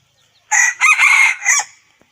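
A wild rooster crows once, loud and close, in a single long cock-a-doodle-doo broken into several rising and falling segments, with quiet surroundings before and after.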